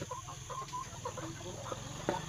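Hens cluck softly in a poultry egg-laying house during egg harvest, a quiet, busy scatter of short clucks and chatter running throughout, fairly faint and close, with light background noise.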